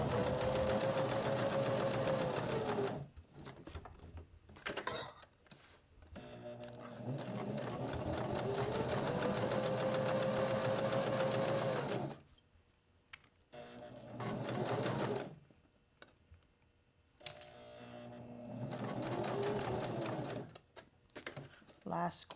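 A sewing machine stitches across fabric on a beginner business card holder project, running in several steady whirring bursts of a few seconds each, separated by short pauses and faint handling noises.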